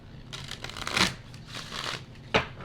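Tarot cards are shuffled close up in a few quick riffling bursts, soft papery rustles and slaps separated by short pauses, with no talking over them.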